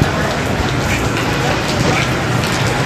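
Heavy rain pours down at the night market at Ben Thanh, Saigon, a dense continuous hiss of drops on surfaces filling the whole stretch without pause.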